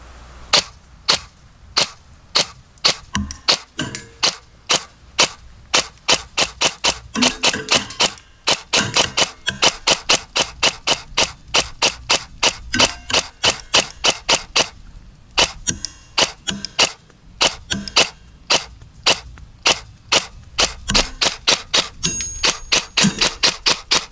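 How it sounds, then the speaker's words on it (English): G&G Cobalt Kinetics BAMF airsoft rifle firing a full magazine at a target 85 feet away: sharp, rapid, evenly spaced shots in quick bursts and runs, loud and close, with no talking. "Time to shoot at the target that's 85 feet away. I'm just gonna use a whole mag"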